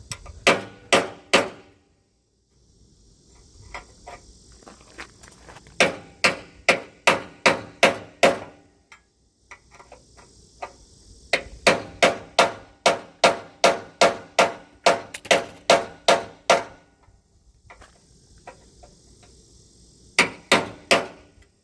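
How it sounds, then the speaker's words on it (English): A hammer strikes a chisel in quick, sharp, ringing bursts of several blows each, separated by short pauses, loud and close. "I'll grab a hammer and chisel."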